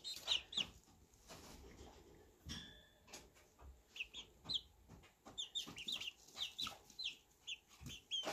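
Young chicks cheeping in short, high bursts, some single and some in quick clusters, close by over a quiet background with occasional soft thumps.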